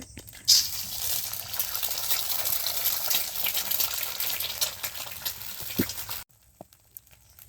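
An egg fries in a hot pan, giving a loud, steady sizzle that runs for about six seconds and then cuts off abruptly, with no talking over it.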